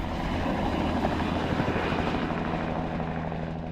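A Bell 206 helicopter of an air ambulance fleet, its rotor and turbine roaring loud and steady, with a rhythmic blade chop running through the whole stretch and no voices.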